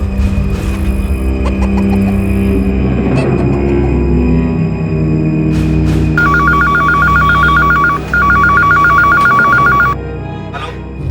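An incoming call sets a telephone ringing in two clear bursts of rapid electronic trilling, each about two seconds long with a brief gap between them, loud and close over a steady dramatic music bed with no speech.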